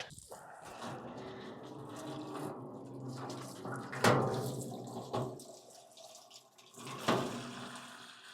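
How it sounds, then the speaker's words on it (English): Hot water running from an outdoor spigot, a steady hissing stream with splashy bursts and a few louder gushes, close and moderately quiet. "That's what the water is coming out right now"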